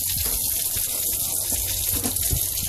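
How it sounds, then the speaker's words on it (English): Water drains through an opened bypass valve from a pressurised bladder tank at a cider brewery, a steady hissing, gushing flow with faint gurgles, continuous and fairly close, no talk over it. "turn on the bypass valve. That drains the bladder from inside"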